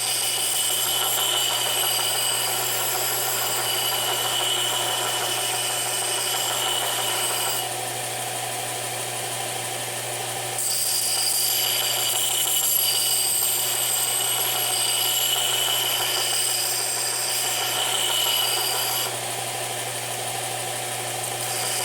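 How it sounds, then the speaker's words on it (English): A power sander grinds the edge of an old, rusty axe head, making a steady whirring hum with a bright abrasive hiss that dips and swells slightly as the steel is pressed on and eased off. "So I'm going to take it out back and put it on the sander. Straighten that edge up"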